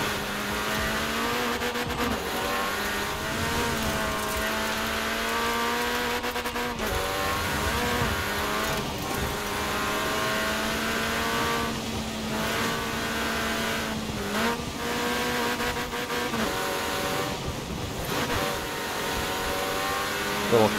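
Mini Countryman rally car in the Forza Horizon 4 racing game, engine droning loud and continuous as it climbs through the revs, with gear shifts, brief dips and pitch rises as it accelerates downhill, no voice over it.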